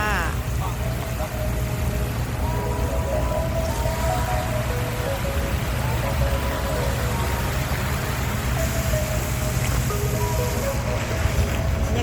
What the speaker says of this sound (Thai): เรือกำลังแลนเข้ามาเนาะค่ะทุกคนค่ะ